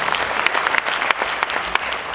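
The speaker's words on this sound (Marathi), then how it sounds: "आय थिंक जोरदार टाळ्या यांच्या पुन्हा एकदा" A seminar audience claps all at once, dense and steady, with sharp individual claps standing out from the continuous roar for a couple of seconds.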